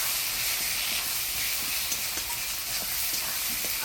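Crushed garlic sizzles in hot spice paste of ground coriander, cumin, ginger, chili, turmeric and salt in a pan, a steady bright hiss throughout with faint soft pops.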